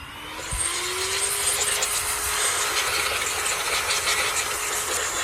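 A compressed air duster fitted with a medium nozzle blows dust out of a fan, giving a steady, loud airy hiss that runs throughout without pause.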